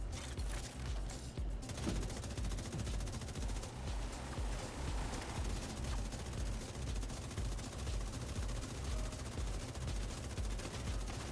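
A light machine gun fires in the video game The Division 2 in long, continuous automatic bursts, a dense, loud rattle of shots that runs almost unbroken for over ten seconds.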